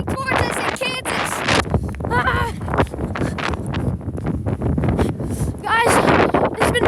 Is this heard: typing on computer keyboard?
no